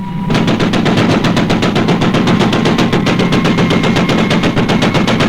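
Rapid machine-gun fire keeps up a steady, loud stream of evenly spaced shots for several seconds, with no pauses.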